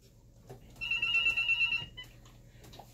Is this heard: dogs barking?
no